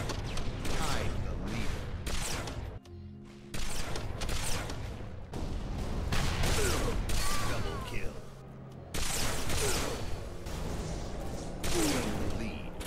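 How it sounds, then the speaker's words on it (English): Halo beam rifle firing, a run of sharp energy shots and mechanical clicks in close, loud succession, with game action and effects filling the gaps. "I'm just a sucker for the design and the sound of the beam rifle."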